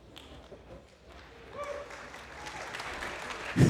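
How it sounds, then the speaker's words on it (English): Applause at a heavyweight submission grappling match in Houston starts faintly and swells to a broad, distant clapping across the venue, growing louder toward the end. "You hear a round of applause."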